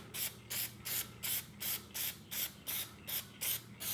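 Spray can misting black paint onto the emblem of a 2006 Mustang GT, applied in about eight short, even hissing bursts spaced roughly half a second apart, close and clear with no voices.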